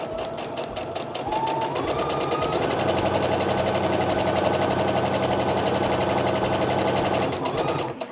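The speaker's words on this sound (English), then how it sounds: "we're going to sew between lines 3 and 4" Sewing machine stitching a paper-pieced quilt block, a fast even mechanical whirring and rapid needle clatter running continuously for several seconds, speeding up early and easing off toward the end.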